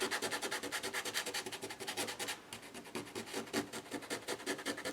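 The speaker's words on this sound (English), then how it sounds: "I'm taking the sandpaper to the postcard, softening those edges." Fine sandpaper rubbing along the edge of a paper postcard in a magazine collage project, a fast run of rapid scratchy strokes with a brief pause midway, close and fairly quiet with no talking.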